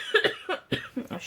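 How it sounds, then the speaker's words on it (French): A woman coughs in a short burst of about four or five rough, close coughs in quick succession while working on a craft project at a table. "c'est pour ça que je tousse"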